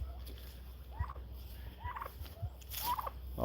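Turkeys on a farm gobble in a few short, wavering bursts at a distance over a low rumble of cold wind.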